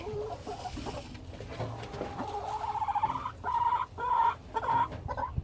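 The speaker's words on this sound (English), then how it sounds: "It's just like super hard being a chicken." Backyard hens clucking as they are let out of their coop in the morning, a mix of low murmurs and louder rising clucks near the mic, the squawks growing stronger and more insistent toward the end.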